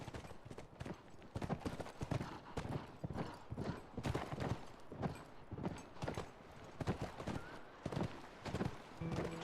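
Horse hooves clip-clop steadily in The Last of Us Remastered video game as riders follow tracks on horseback, a fairly quiet, regular stream of close hoof beats with no talk.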